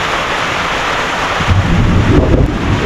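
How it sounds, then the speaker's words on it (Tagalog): A steady rain shower hisses loudly with low rumbling thunder building in the second half, with no voices. "Ulan!"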